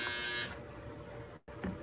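A clothes dryer buzzer signals the end of a cycle in a home kitchen, giving a loud, harsh electric buzz for about half a second before it drops to a fainter hum that cuts off.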